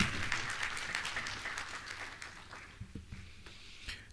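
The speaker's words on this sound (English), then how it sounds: "give Mr. Ellington a bigger round of applause, please" An audience at a maritime university industry conference claps for a panel speaker, loud and dense at first, then thinning into scattered, individual claps as the applause fades out.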